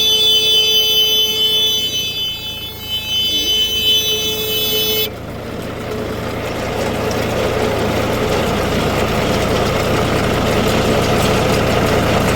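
A Deutz-Fahr Agrolux 50 Turbo tractor engine holding about 1100 rpm, a loud, steady close-up idle drone with a high whine in the first few seconds before settling into an even rumble.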